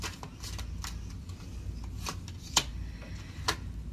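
Tarot cards shuffled and drawn by hand, soft riffling and sharp flicks and snaps at irregular intervals, close and quiet, no talk.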